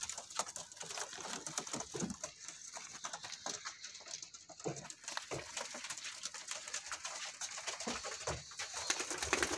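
Pigeons from an Amritsar border-breed flock on sale, coo softly and continuously, with a steady murmur of several birds close by and faint clicks scattered through.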